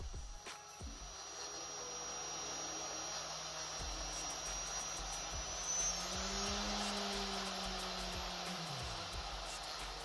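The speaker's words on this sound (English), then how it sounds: "when the motor starts it has some power in it" A homemade brushless DC motor with a plastic stator whirs in a steady faint hum, its pitch rising and shifting midway, close up with no voices.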